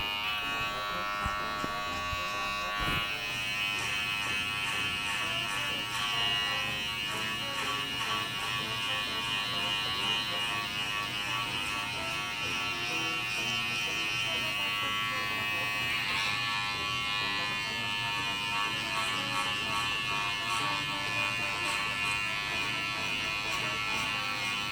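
Electric hair clippers cut a bald fade with a side part, a continuous close, loud buzzing hum that holds steady throughout with small shifts as the blade moves over the head.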